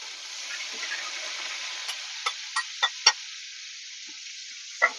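Nigella seeds (kalo jeera), rinsed and still wet, dropped into hot oil with a little sugar, giving a steady close sizzle with a few sharp spits and pops toward the end.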